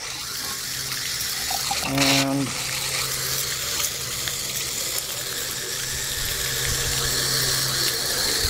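A faucet jet pump draws somewhat dirty water out of a glass, giving a steady watery rush with a brief gurgling surge as it starts sucking, continuing as constant flow noise with a faint voice nearby.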